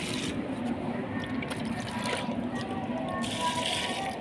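Water pours steadily onto garden plants, including curry leaf and rose bushes, a continuous splashing gush that runs throughout.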